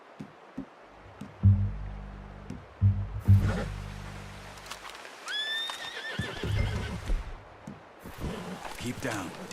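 A horse in Red Dead Redemption 2 whinnies loudly mid-clip amid clip-clopping hooves and low rumbles, with voices talking around it.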